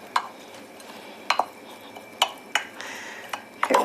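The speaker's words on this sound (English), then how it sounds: "Let this get nice and kind of browned up a little bit, kind of sauteing the bottom of the pan" Onions and garlic being sauteed in olive oil in a pan, a low sizzle under sharp, irregular clinks and scrapes of a utensil stirring against the pan.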